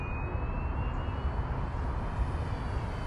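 An FMS F4U Corsair or F7F Tigercat 1700mm RC warbird model airplane flying at three-quarter throttle, a steady, even electric drone with a faint high whine, no talking.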